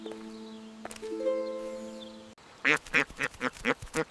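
Several short nasal quacks in a quick uneven series, close and clear, following a stretch of steady tonal background.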